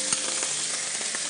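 Liver frying in a hot pan: a close, steady hiss of sizzling fat with small pops and crackles scattered through it, no talking.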